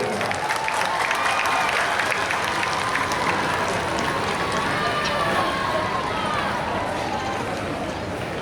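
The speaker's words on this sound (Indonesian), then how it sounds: "Coba tepuk tangan dulu." Steady, dense applause from a large crowd at a government flag-distribution launch event in Lhokseumawe, clapping continuously and loudly throughout without pause.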